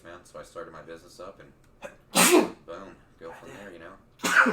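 A man sneezes from allergies, two sharp loud sneezes punctuating a nearby man's conversational speech, the second coming near the end.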